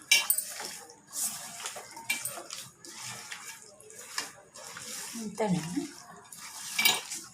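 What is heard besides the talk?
mixing food ingredients with oil in a bowl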